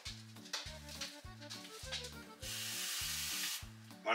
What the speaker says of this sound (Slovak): Varím to na takom miernom na polovičke, hej. Mám elektrický šporák